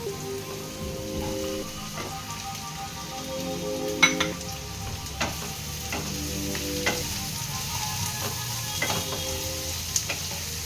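Bitter gourd slices frying with onions in a pan, a steady close sizzle with recurring scrapes and clacks of stirring running through the whole stretch, no voices.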